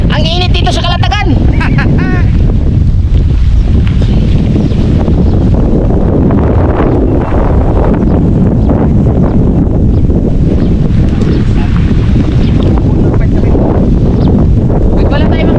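Heavy wind buffets the microphone in a loud, continuous roar throughout, with people talking briefly near the start, at a hot coastal campsite in Calatagan, Batangas, Philippines.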